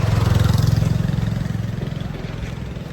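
Motorbikes riding past on a narrow hill road, a close, throbbing engine drone with a fast pulsing beat that slowly eases in level as it moves away.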